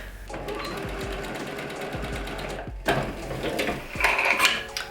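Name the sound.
sewing machine sewing a basic seam in scrap fabric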